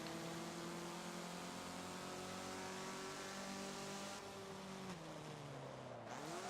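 Volkswagen Rabbit hot hatch engine in Forza Motorsport 7 at Hockenheimring, a steady droning engine note that climbs slowly, then drops sharply on gear changes and climbs again, heard alone.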